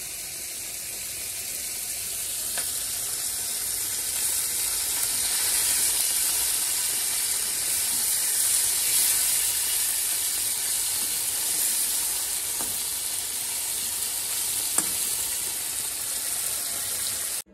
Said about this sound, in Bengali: কড়াই গরম হয়ে গেছে, মাছটা তাড়াতাড়ি ভেজে নিই